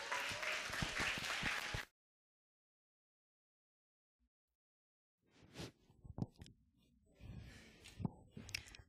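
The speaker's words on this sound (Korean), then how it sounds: "우리 박수로 환영해 주시기 바랍니다." Church congregation applauding to welcome speakers at a New Year's Eve service, a short burst of clapping that stops abruptly, followed by silence and then scattered handling noises and rustling.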